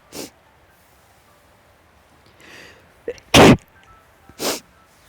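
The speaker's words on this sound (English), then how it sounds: "Can't imagine why somebody might sneeze in a forest like this." A sharp, loud sneeze bursts out in a quiet forest setting, followed moments later by a second, softer sneeze-like burst, with faint breathing sounds before.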